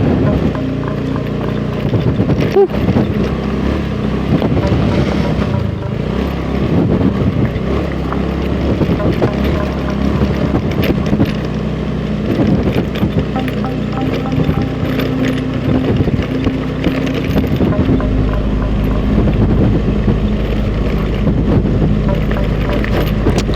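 A motorcycle engine labors uphill at midnight on a badly damaged road, continuously at low revs, a steady rumbling drone with rough vibration throughout, up close and loud.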